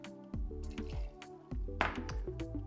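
Campari poured into a mixing glass filled with ice, a gurgling glugging pour with liquid splashing and trickling over the cubes, close and fairly soft, in several uneven surges.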